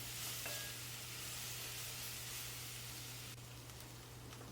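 Chopped garlic being stirred as it fries in a cast iron tagine sizzles as a soft, steady hiss with a low hum underneath, faint and close, with no talking.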